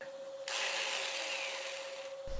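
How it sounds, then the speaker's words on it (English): Steady abrasive rubbing of sandpaper against wood spinning on a lathe over a constant motor whine, starting abruptly and continuing evenly, close and fairly loud. "I just don't know how this is going to work for sanding."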